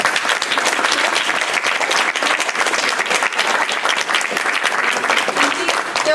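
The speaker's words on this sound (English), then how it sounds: "Please join me in clapping for our" Sustained audience applause closing a rural broadband panel, steady dense clapping throughout with no speech over it.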